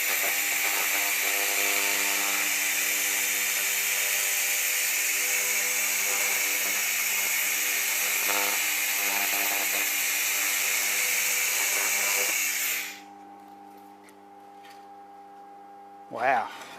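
A 1000W Acctek fiber laser cleaning machine runs with a steady, loud mechanical hum and whine for about twelve seconds, then cuts off abruptly, leaving a faint residual tone and one brief noise near the end.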